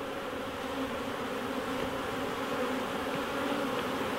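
A dense, steady buzz of many honey bees fills the air close by during the installation of nucs of Texas-raised bees, constant and unbroken throughout, with no voices.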